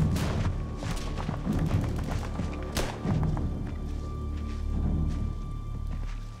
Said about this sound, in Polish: Granat wybucha, rozsiewając zabójcze odłamki